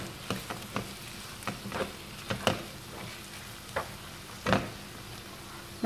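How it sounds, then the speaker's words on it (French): Chicken pieces browning in a hot pan give a steady soft sizzle, broken by sharp clacks and scrapes of stirring at irregular intervals, with no talking. "on va ajouter les morceaux de poulet. On va laisser revenir un petit peu avant d'ajouter le reste des ingrédients"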